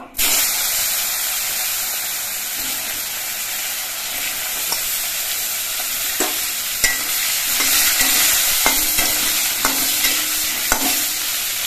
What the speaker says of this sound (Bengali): এবার বেগুনগুলো আমি ভেজে নেব।